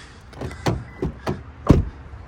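A Toyota pickup truck with a 3.5-litre V6 is unlocked. Several distinct mechanical clunks from the door locks and latches sound close by, ending in one louder thud, over quiet background noise.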